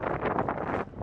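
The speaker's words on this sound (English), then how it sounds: "So much wind." Wind buffeting a microphone outdoors, a dense rumbling roar with gusty pulses lasting about a second and fading at the end.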